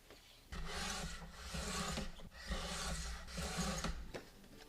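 A plastic-guide paper trimmer slices through paper photos in a few rough, rasping strokes, each a loud close scrape separated by short pauses.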